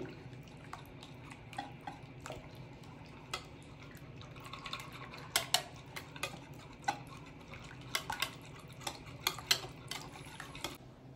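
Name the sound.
beating eggless chocolate cake batter with vanilla essence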